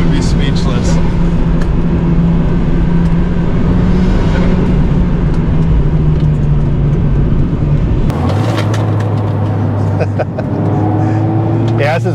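A Mazda Miata, a 2002 SE or 2019 ND2 Club, drives on a winding road, its engine humming steadily from inside the car. The tone drops abruptly partway through, and voices talk over it.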